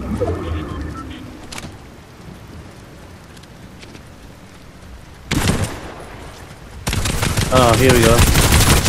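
Gunfire in Fortnite with friends, bursts of shots coming in louder, denser volleys toward the end over a rumbling game backdrop, with a voice speaking briefly.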